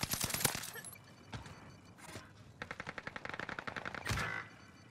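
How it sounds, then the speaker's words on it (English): Battle royale video game gunfire: an early burst of loud shots, then a sustained rapid machine-gun rattle of evenly spaced reports, with a sharp blast near the end. "I'm taking fire here."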